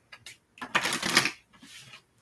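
Card shuffling in short bursts: a few quick riffles, then a longer dense flurry of flicking cards, followed by lighter fluttering as the deck settles. Close and fairly clear.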